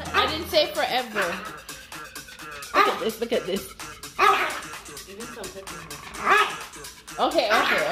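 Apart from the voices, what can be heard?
dog barking when a child goes near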